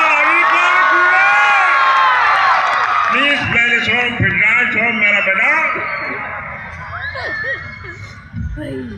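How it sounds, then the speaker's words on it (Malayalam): An audience cheering and shouting with rising whoops and children's voices, loud and close at first, then thinning out as excited chatter continues. "എല്ലാവരും നന്നായിട്ടൊന്ന് കൈയടിച്ച്"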